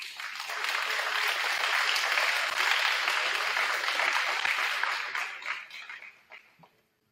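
At a high school fall sports awards night, an audience claps steadily for about five seconds, then the applause thins out and dies away to silence.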